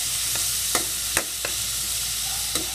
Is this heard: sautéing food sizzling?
yes